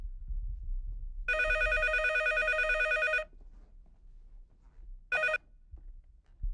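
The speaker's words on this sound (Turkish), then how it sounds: "Dur ben bakayım şu telefon." Landline telephone bell rings loud and near in a domestic scene, one long burst of about two seconds followed after a pause by a short second ring, with quiet room noise between.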